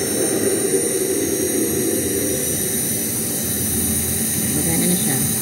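A Jisulife turbo handheld fan runs at full speed after repair, a loud, steady, close jet-like whoosh with a high whine that holds unchanged throughout.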